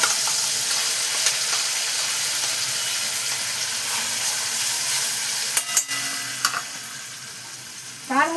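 Poppy seed, mustard and green chilli paste frying in oil in a pan for a stuffed flat-bean fry, a steady close hiss with a few sharp clinks and taps near the end.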